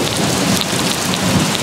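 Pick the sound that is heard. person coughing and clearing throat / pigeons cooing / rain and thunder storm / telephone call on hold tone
rain and thunder storm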